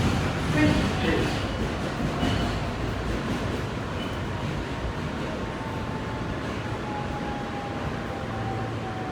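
Riding an eastbound New York subway R train in a Kawasaki R160B Siemens car, with a steady loud rumble and rush from inside the car, a faint whining tone rising slowly over the noise, and no speech heard.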